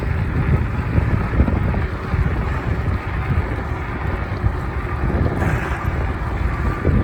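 Heavy wind buffets the microphone while riding a fat-tire Ecotric e-bike on a cold day, a loud, continuous low roar with gusty fluctuations and no talking.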